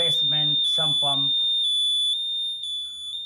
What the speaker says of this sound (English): you can hear alarm is on, is giving the alarm that is testing in the basement sump pump